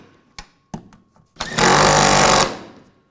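Bolts on the lower trailing arm of a 1997-2001 Honda CR-V are tightened with a power tool: a few short clicks, then one loud sustained burst of about a second, close up and with no talk.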